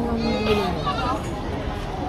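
Goats bleat at a livestock auction in Padre Garcia, Batangas, with a few wavering bleats close by early on amid crowd chatter and background voices.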